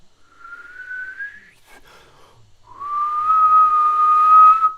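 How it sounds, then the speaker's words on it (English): Whistling done by sucking air in rather than blowing out: two clear sustained tones, a thin rising note then, after a brief breathy pause, a louder steady note held for about two seconds, with no talking. "I whistle by sucking air in"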